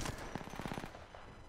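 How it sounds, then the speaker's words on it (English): Apex Legends video game gunfire: a fast, rapid burst of automatic shots at moderate distance, crackling for under a second before fading into background noise. "Why are they shooting?"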